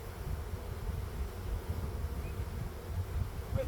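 Honeybees buzz faintly and steadily during removal from a thin breeding box, a low, continuous drone with soft rustling and no voices.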